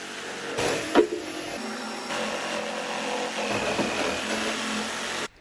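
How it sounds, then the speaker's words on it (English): Jigsaw cutting through pallet wood, a steady buzzing rasp with a sharp knock near the start, running continuously at close range before stopping abruptly. "Forcing a bit straight through the guts so we can get our jigsaw blade in there, and then just go to town."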